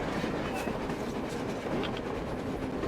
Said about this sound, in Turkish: Bir tren var.